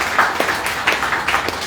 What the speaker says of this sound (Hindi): देखो आप उसके लिए ताली बजा दो एक बच्चे के लिए